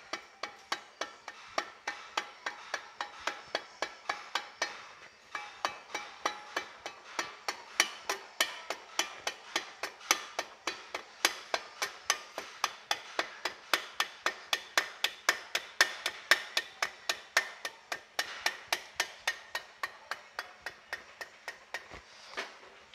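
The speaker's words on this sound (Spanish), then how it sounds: "Tocale con un martillito de caucho porque no podemos doblar esa pestaña" A small rubber mallet repeatedly taps a part into place while assembling an NPR truck engine, producing a long run of sharp, evenly spaced knocks, close and clear with almost no other sound.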